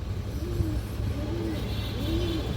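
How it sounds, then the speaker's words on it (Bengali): Black male pigeons in a loft coo in three slow, low rolling calls spaced evenly apart over a steady background hum of other birds, heard close by with no talking. "কালো কালো নর কবুতর আছে, এই যে দেখেন"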